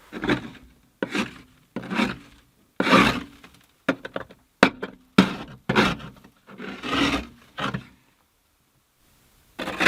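A scraper rasps snow and ice off a Suburban's windshield in close, rough strokes, about a dozen in an irregular rhythm with short pauses, then a brief silence.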